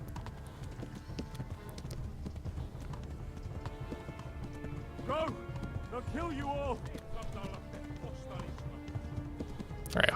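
Horse hooves clip-clop steadily through a Kingdom Come: Deliverance ride, mid-distance beneath game music and a shouted line of dialogue.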